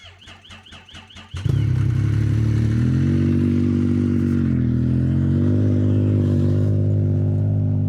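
A 280 hp turbocharged car engine cranks over with rapid starter clatter in freezing cold, then catches and settles into a loud, steady, deep idle that sounds close and fills the space.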